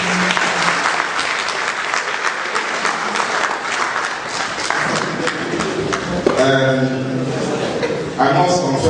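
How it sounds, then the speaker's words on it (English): An audience at a press conference breaks into sustained, even applause that carries for several seconds, before a voice starts speaking near the end as the clapping keeps going. "the best tonic you can give him is another round of applause."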